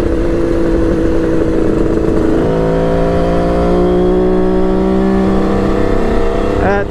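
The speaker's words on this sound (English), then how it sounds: "So nice and smooth, third gear running here." A Kawasaki KH500 H1 two-stroke motorcycle runs in third gear, its engine droning loud, close and steady with a buzzing multi-toned whine that shifts pitch slightly partway through and then holds.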